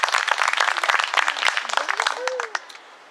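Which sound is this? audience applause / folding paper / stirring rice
audience applause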